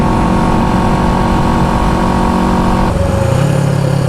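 A 1974 Honda CB360 motorcycle engine running loud and steady up close, its pitch climbing as it accelerates, then dropping briefly at a gear change before pulling again.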